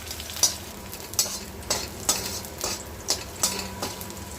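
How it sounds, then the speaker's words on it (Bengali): Green chilies, dried chilies and garlic crackle in hot oil, a constant close sizzle punctuated by roughly evenly spaced metallic spatula taps against the pan, about one every half second to second. "এবারে তেলের মধ্যে কাঁচা লঙ্কা, শুকনো লঙ্কা দিয়ে দিলাম, রসুনটাও দিয়ে দেবো"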